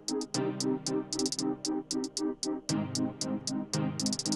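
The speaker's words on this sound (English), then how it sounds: "Now, the first drum piece that I added was a closed hat." Closed hi-hat in a trap beat, made in Studio One 4 from same-pitch notes, ticking in a quick pattern of eighth, sixteenth and thirty-second notes over a steady bass and synth backing, with no voices.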